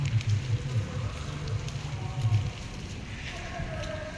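Rain falls in Bahrain as a steady, dense hiss over a low rumbling hum, continuous throughout with no voices.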